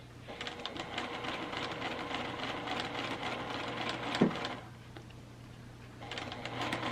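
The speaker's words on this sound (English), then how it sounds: "I'm stitching right on that real nice crisp" A sewing machine stitches a mitered quilt border along a pressed crease, a steady close whirring hum with a brief pause near the end before the stitching resumes.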